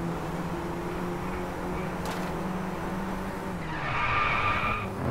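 A race car skids through a corner in the DRIVECLUB racing game, with engine drone running throughout and a rising tire squeal toward the end, heard fairly faint and without talk.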